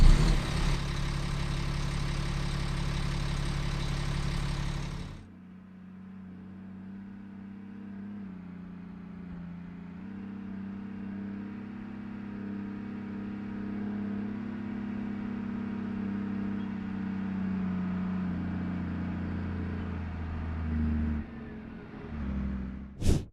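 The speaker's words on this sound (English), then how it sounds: "Let's take a quick listen to the ASLAV engine so you can hear it when it's coming up on the battlefield." The ASLAV armoured vehicle from the game Squad runs with a steady, low engine rumble that holds near idle for most of the stretch. A louder, harsher roar opens the first few seconds before it settles.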